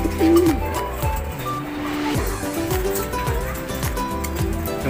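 Soft, low cooing from imported UAE pigeons repeats through the clip, with a faint voice and some background rumble mixed in.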